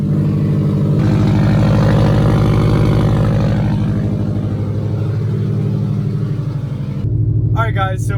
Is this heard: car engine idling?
yes